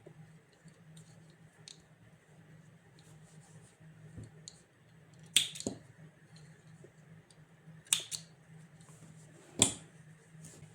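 Scissors snipping crochet yarn: three short, crisp snips spaced a few seconds apart, close and fairly quiet, over a low, steady room hum with faint handling sounds.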